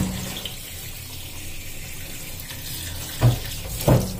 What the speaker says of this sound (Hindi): तो गर्म गर्म पानी आ रहा है टंकी में